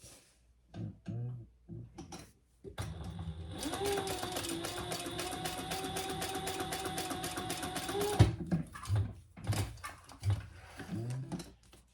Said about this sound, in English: We're gonna sew above the card slot here and below the top card slot